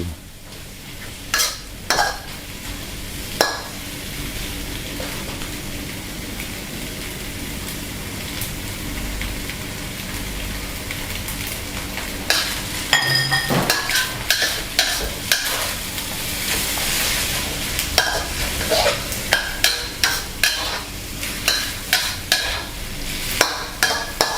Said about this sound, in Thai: ผัดทุกอย่างเข้ากันแล้วเราก็จะตามด้วยน้ำจิ้มสุกี้นะครับ